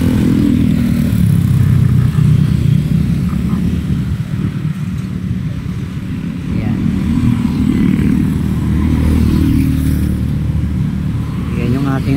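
An 11-year-old motorcycle rides along a road by a floodway in Pasig, its engine droning loud and steady at close range, with wind buffeting and other traffic noise around it.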